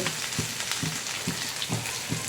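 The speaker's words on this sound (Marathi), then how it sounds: "आता आपण याला थोडं सॉटे करून घेऊया" Chopped onion, capsicum, carrot and other vegetables sauté in a hot pan for a leftover-roti frankie, giving a constant close sizzle with regular stirring scrapes about twice a second.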